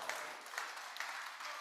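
Applause greets a singer at the World Food Forum grand opening, faint and distant clapping from an audience with a few sharper claps standing out.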